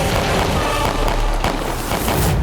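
Gunfire in a battle scene about Maharana Pratap storming a fort, loud continuous crackling volleys and booming bursts that fill the whole stretch without a break, with no talk over them.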